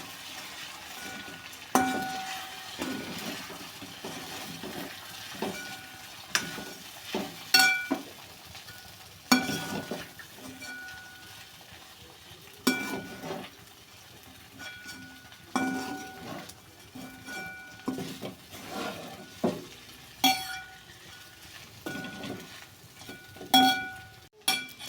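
Sabudana khichdi seasoned with coarsely ground black pepper and salt gets stirred in a pan, with soft scraping and stirring strokes recurring irregularly, plus light sizzle and a few sharp clinks of the spoon against the pan.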